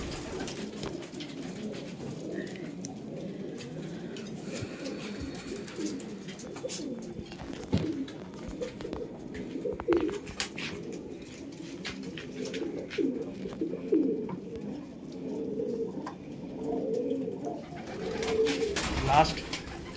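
Breeding pigeons kept at home coo in low, repeated murmurs throughout, mixed with rustling and scattered clicks, while someone talks over them.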